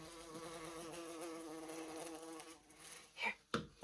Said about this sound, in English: Crawl on this, silly bee.